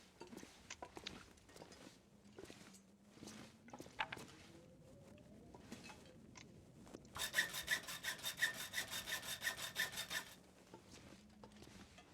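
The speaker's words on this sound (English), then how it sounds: "And I could break down the hacksaw as well, I suppose." A hacksaw is broken down in a video game, heard as a loud burst of rapid, rhythmic rasping saw strokes lasting about three seconds, set among quieter scattered clicks and a low background hum.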